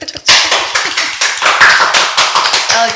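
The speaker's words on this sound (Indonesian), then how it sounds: "Tepuk tangan dulu." Applause for a guest on an Indonesian youth-exchange podcast: a dense, steady patter of hand claps from a small group, close and fairly loud, running throughout with a few voices faintly mixed in.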